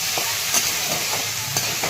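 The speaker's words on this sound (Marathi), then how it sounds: "आता हे तुपामध्ये परतून घ्यायचं" Diced potatoes sizzle in hot ghee while being stirred in a pan for sabudana khichdi, a steady close frying hiss broken by several soft scraping stir strokes.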